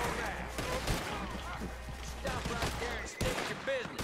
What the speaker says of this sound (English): Nope, I'm being shot.